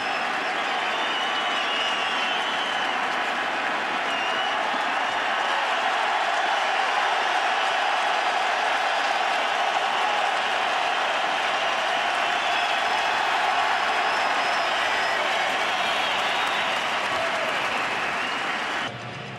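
Large baseball stadium crowd at a 2009 World Series game between the Phillies and Yankees roars and applauds steadily as a pitcher walks off the field, a dense, sustained wash of cheering with no break.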